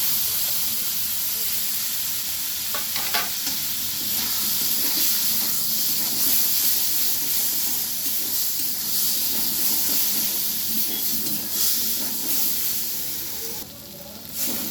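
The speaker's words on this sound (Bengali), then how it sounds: "বেশ ভালোভাবে মশলাটা আমি ভেজে নিলাম" Spice masala with tomato paste fries in a pan with a continuous loud, hissing sizzle, with brief stirring scrapes along the way.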